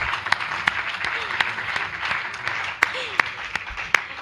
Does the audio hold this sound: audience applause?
yes